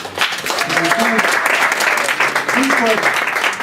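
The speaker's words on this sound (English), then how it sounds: "Can we have a round of applause for Ted, please?" Audience applauding for Ted Losa, a steady broadband wash of clapping running throughout, with faint voices and tonal murmurs mixed underneath.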